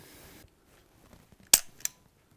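A single sharp mechanical click of a training pistol being dry-fired, followed shortly by a second fainter click, in an otherwise quiet room.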